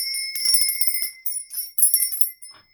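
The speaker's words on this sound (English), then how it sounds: "I'm going to be using this bell as well." A bright bell rings in quick repeated strikes, loud and close, with sustained metallic overtones in short bursts separated by brief pauses, no talk.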